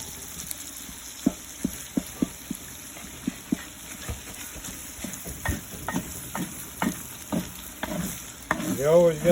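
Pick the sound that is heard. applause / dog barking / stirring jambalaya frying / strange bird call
stirring jambalaya frying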